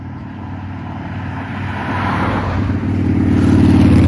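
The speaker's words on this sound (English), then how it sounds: "That's a motorcycle that I was hearing synced." A motorcycle engine drones and grows louder as it approaches, building steadily toward the end.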